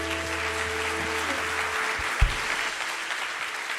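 A church congregation applauding, a steady wash of many hands clapping together; a low sustained organ or keyboard tone sits underneath at first before fading, with one louder thump partway through.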